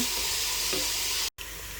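Garlic and onion frying in a pan for a dried jute leaves dish, giving a steady close sizzle with faint stirring scrapes, broken by a brief dropout near the end.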